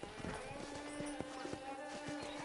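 A horse's hooves clip-clop in a steady rhythm on a ranch in Red Dead Redemption, close and moderately loud, with faint game ambience and a voice in the background.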